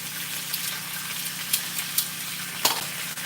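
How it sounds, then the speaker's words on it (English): Food sizzling in a pan, a close, even hiss with a few soft clicks and a brief louder scrape near the end, no speech. "You guys could probably hear it sizzling too."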